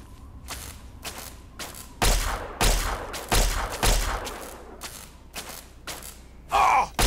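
Repeated loud gunshots trade back and forth in Fallout 3, with sharp separate bangs and short bursts spread through the fight and a brief metallic mechanism sound near the end.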